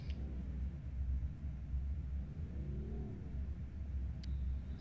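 V8 Supercars race cars idle together on the starting grid at the Zolder circuit, a steady low engine rumble with a faint rising rev near the middle and a brief high tone toward the end.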